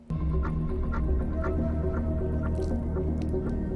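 Water poured into a pot until it overflows, heard as steady dripping and trickling with small squishy splashes over a low hum, close and fairly quiet.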